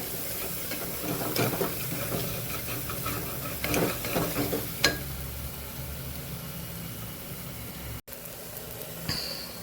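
Masala and gram flour sizzling steadily as they are sautéed in a pan for a chora curry, giving a continuous close frying hiss with a few stirring scrapes.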